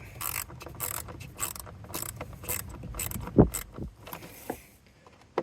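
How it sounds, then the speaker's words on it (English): A small ratchet with an adapter turns fasteners deep inside a van dashboard during blower-motor work, making quick bursts of close, sharp clicking in uneven runs before it falls quieter near the end. "Helps to have a little ratchet adapter, versus trying to get a big long screwdriver down there"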